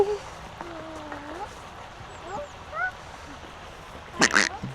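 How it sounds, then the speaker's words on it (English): A duck calls close by with short nasal quacks and squeaky notes scattered over quiet outdoor ambience, ending in a louder burst of rustling or flapping. "A bit close for comfort, this duck."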